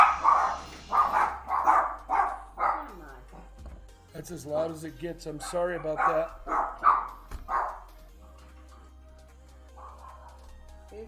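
Big and little dogs bark at a cat on a backyard fence, a rapid run of loud close barks and yips that fades to quieter distant barking while a person talks over part of it.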